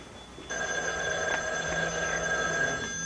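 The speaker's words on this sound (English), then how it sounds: "answer the phone." A telephone rings in a soap-opera scene: a steady, bright electronic ring starts after a short quiet moment and carries on unbroken, with no voices over it.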